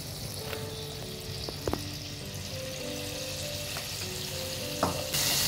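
Hot oil sizzling steadily in a pan while preparing mutton kheema, a continuous close frying hiss with a few light clinks of a utensil and no voices.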